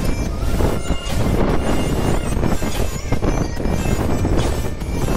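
Steady, roaring wind at a seaside rushes across the microphone for the whole stretch, a dense continuous whoosh with no voices.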